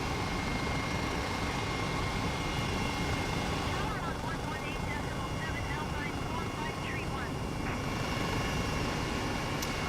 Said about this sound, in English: this is the best helicopter I think on the simulator